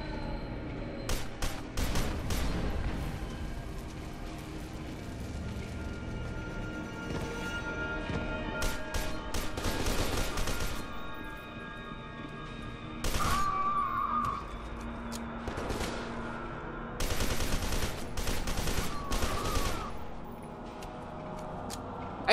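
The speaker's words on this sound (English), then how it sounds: "the replicas are using rifles and the other guys are using submachine guns still" Rifle and submachine gun fire in F.E.A.R. 2: Project Origin, with sharp bursts of shots in several clusters over a steady rumbling game background.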